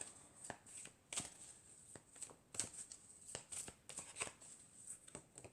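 A paper deck of cards being cut and shuffled during a tarot or oracle reading, giving a series of crisp flicks and snaps at an uneven rhythm, close and fairly quiet, with no voice.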